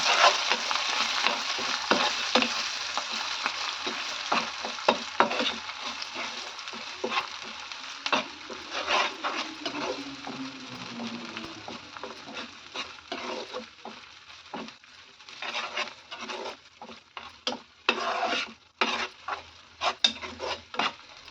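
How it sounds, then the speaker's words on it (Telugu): Onion and tomato paste sizzles and fries in hot oil in a pan, with a steady hiss broken by repeated scraping stirs and clinks of a spoon against the pan throughout. "ఈ ఉల్లిపాయ టమాటా పేస్ట్ మంచిగా ఫ్రై చేసుకోవాలన్నమాట ఈ ఆయిల్లో"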